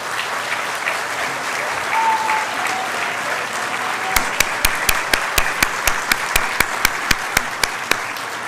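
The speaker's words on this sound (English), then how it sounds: "Ladies and gentlemen, a round of applause for our graduates," Sustained audience applause at a university convocation ceremony for graduates, a steady wash of clapping from a large crowd throughout, with a few sharp, evenly spaced louder claps standing out near the front in the second half.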